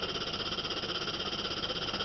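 A steady, low pulsing mechanical drone of a vacuum pump running continuously, with a rapid even throb and no voices.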